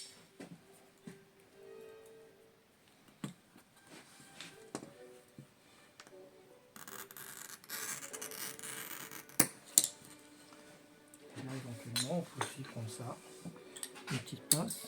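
Glass scored and snapped by hand at a stained-glass workshop bench, giving scraping, ticking and gritty rasps with sharp clicks, close up and moderately loud, amid handling noises.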